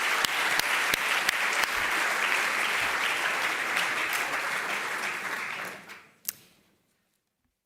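Audience at a welcome ceremony applauding scholarship awardees, sustained loud clapping that fades out over the last two seconds, followed by a single sharp clap and then silence.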